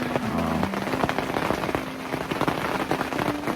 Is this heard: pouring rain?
yes